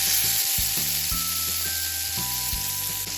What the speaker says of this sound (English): Heat a pan, add oil and then add 5 garlic buds and 2 ripened tomatoes, chopped ones.